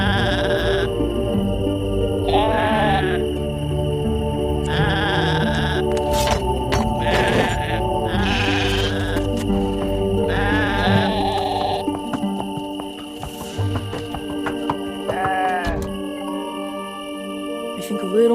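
Sheep bleat repeatedly in the puzzle adventure game Lost Land 9, wavering cries overlapping a looping game music bed, loud and close throughout.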